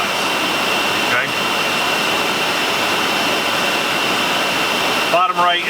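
A spa tub air blower, run from a Champagne Series SW-DTHL touchpad control system, roars as a loud, steady, close rushing noise for several seconds, ending with a brief voice and a shift in the noise.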